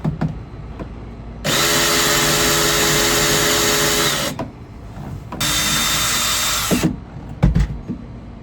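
Power drill driving a long self-tapping screw into a 1980 Corvette C3 door panel, two loud sustained whirring bursts of about three and one and a half seconds, with a pause and a few clunks after.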